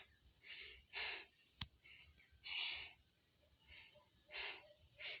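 Heavy panting breaths from hikers climbing Linabo Peak, a series of close, rasping breaths in a slow rhythm with one sharp click partway through.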